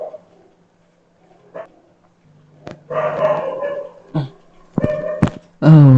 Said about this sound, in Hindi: मेरे गली का कुत्ता लगता है जल्दी जग गया था